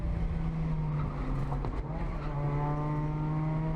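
Mazdaspeed Miata race car at Road Atlanta running over the rumble strips, a steady loud engine drone with a strong low hum and a brief rattling burst midway, no talking.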